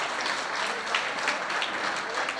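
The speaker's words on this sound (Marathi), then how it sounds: "यांना हा सन्मान देत असताना टाळ्यांचा गजर व्हायला हवाय" Moderately quiet audience applause at a women's award ceremony, steady clapping from a crowd with slight rhythmic swells.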